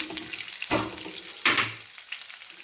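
Green chili kharda ingredients are sautéed in a pan, with two quick spatula scrapes over a soft, close sizzle.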